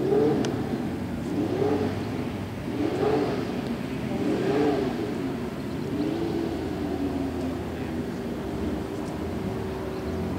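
A big Alfa race car engine warms up at a wet track, revving in repeated rising and falling swells at a moderate distance, then settling into a steadier drone.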